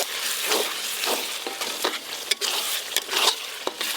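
Spice paste and slit green chillies fry in a pan, a bright, steady sizzle punctuated by repeated scraping stirs and occasional spatters, close and fairly loud, with no talking.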